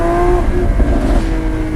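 A Lamborghini Aventador SVJ Roadster engine revs hard toward 8000 rpm in second gear, a loud, close, climbing howl over a short burst.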